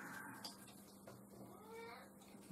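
Cat meowing indoors during a board game, a faint, drawn-out plaintive call with a couple of wavering rises, heard near the player against quiet room noise.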